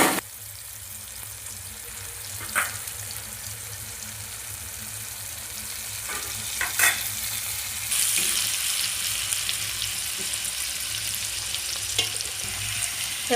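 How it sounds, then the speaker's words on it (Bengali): Chicken pieces coated with turmeric and salt fry in hot oil, giving a steady sizzle with brief stirring clatters and scrapes at intervals and a louder burst of spattering later on. "এটা ভেজে নিই ভালো করে।"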